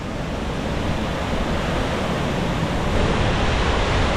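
Water rushing and tumbling down over rocks on a hill stream, a steady, dense roar that holds at full strength without a break, close and loud with no voices over it.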